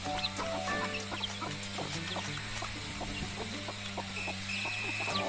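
Chickens cluck and chatter continuously at close range, with steady clicks and a low hum running underneath.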